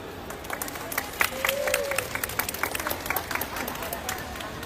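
Scattered audience clapping at a public speaking day for a Jakarta pageant, with moderately distant, uneven claps and a voice speaking beneath.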